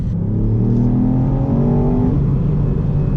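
A 2019 Ford Fiesta ST engine revs hard under acceleration, its pitch climbing steadily for about two seconds before easing off, loud and close from inside the car, with no talking.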